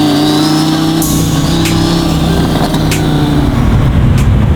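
A straight-piped widebody Ferrari 458 revs hard on a rainy LA night, its loud, close engine note rising and falling in a raw, sustained roar.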